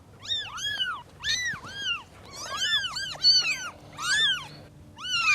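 Several cats meow in overlapping, rising-and-falling cries, some high and drawn out, with faint background rumble between calls.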